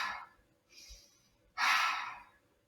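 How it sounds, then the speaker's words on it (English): Breath-work cleansing exhalations, close and unvoiced: a strong breathy rush at the start, a softer breath around the middle, then a loud long exhale that slowly fades, with no talking. "Start to introduce the cleansing breath."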